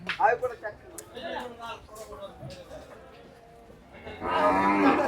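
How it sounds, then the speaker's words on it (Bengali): Cattle lowing at a cattle market amid a busy crowd of voices, with a louder burst of animal calls and chatter near the end. "ঘুরে চলে যাচ্ছে আকরাম ভাইয়ের গরুগুলো"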